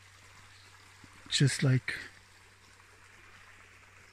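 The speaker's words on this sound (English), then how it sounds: "I just want to listen to that water, and just the sound of that water is like a rhythm" A stream of water flows in a steady broadband wash that runs through the whole stretch, with a short burst of speech over it near the middle.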